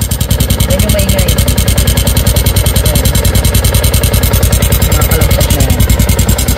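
A Yamaha Sniper 150 motorcycle engine idles with its engine cover removed, giving a loud, close, fast and even mechanical rattle that pulses steadily throughout.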